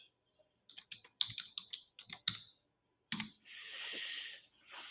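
Someone types a password on a computer keyboard in quick, uneven bursts of crisp, close keystrokes with short pauses, then a longer hiss-like rustle at the end.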